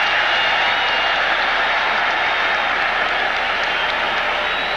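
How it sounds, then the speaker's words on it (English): Football stadium crowd at a 1980 Houston Oilers versus Cincinnati Bengals game roars and applauds, a dense, steady wall of cheering and clapping reacting to the referee's preliminary signal, loud throughout. "Crowd reacting to the preliminary signal by the referee, Ben Dreith."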